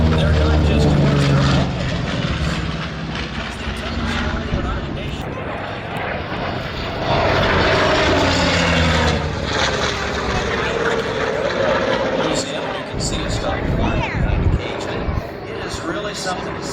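Propeller airplane engines roar past at the Miramar air show, a loud sustained drone with a rising and falling pass, heavy and continuous for the whole stretch, with speech running over it.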